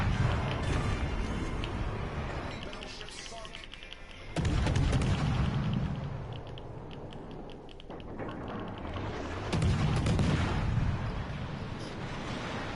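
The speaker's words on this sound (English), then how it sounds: "I have to start shooting." Warship guns firing shells in a naval battle video game, heavy booming blasts at intervals with long rumbling tails over a constant sea and engine drone.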